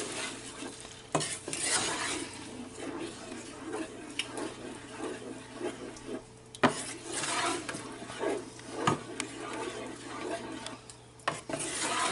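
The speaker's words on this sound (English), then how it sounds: "Alright, let's stir it." A spoon stirring tomato sauce seasoned with crushed red pepper in a pot, giving continuous scraping and swishing with a few sharper knocks against the pot, close and fairly loud.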